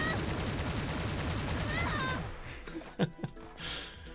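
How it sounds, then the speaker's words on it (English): Rapid gunfire from a video game level, a fast regular burst of shots filling the first two seconds and then stopping, followed by a few scattered clicks and short bursts. "Okay, I need to shoot."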